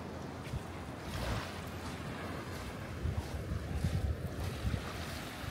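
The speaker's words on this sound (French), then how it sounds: "Et voilà la plage à côté du village." Waves wash onto a beach beside a village in Fiji, a soft, low, steady surf rumble mixed with wind buffeting, with no voices.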